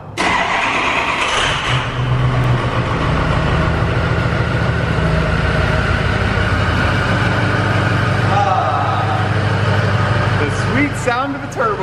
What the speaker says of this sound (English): Sound of a turbo diesel.